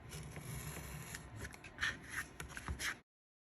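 Scissors cutting the edges of fabric pattern pieces for a sewing project, a soft, close rubbing and snipping sequence with several short cuts, quiet and without talk, ending abruptly.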